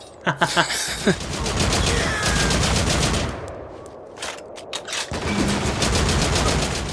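Rapid bursts of automatic gunfire from the PS3 shooter Haze crackle in quick succession at the start and again in the middle, set over a loud, continuous wash of in-game battle noise.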